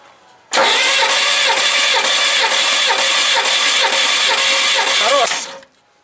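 A VAZ 2101 engine cranks on the starter during a compression test, a loud, even, rapid whirring chug that starts abruptly, holds for about five seconds, then cuts off.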